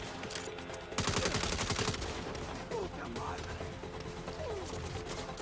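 Rapid bursts of gunfire in the video game Saints Row, loud automatic rattling that starts abruptly and continues in shorter volleys, with people talking over the shooting.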